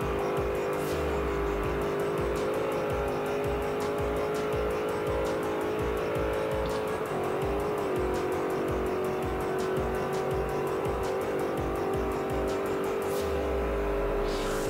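An Alfa Romeo Montreal in Forza Motorsport 4 drones at high revs under full throttle, a sustained engine note with slight pitch dips as it lifts and gets back on the power, loud and continuous.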